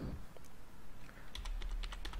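Typing on a computer keyboard to enter a web address, a run of quick light key clicks that grows denser toward the end over a low background hum, with no talk.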